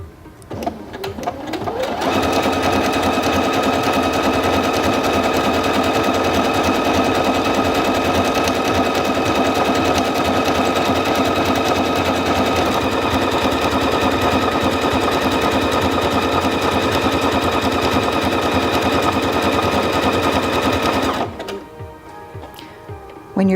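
A Singer Featherweight C240 sewing machine sews decorative stitch 27 in one long continuous run of rapid, rhythmic mechanical whirring, loud and close, for about twenty seconds, then stops, leaving faint clicks.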